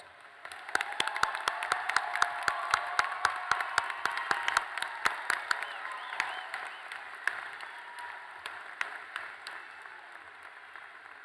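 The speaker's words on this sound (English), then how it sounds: "Let's give all the graduates a round of applause." Audience applause for the graduates at a 2016 pharmacy school graduation ceremony, a steady spread of clapping from a large seated crowd that holds for about ten seconds and thins slightly toward the end.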